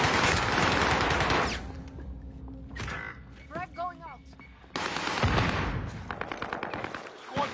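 Gunfire in the military shooter game Squad, with bursts of rapid shots loud at the start and again near the end, a quieter stretch with a voice in between.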